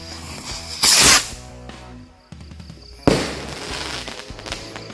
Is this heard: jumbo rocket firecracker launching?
yes